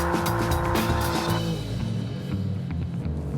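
An Alfa Romeo Giulia Quadrifoglio is driven hard in a handling challenge against a Mercedes-AMG C63, its engine roaring loud and close as the tyres squeal and skid, the engine note dropping partway through.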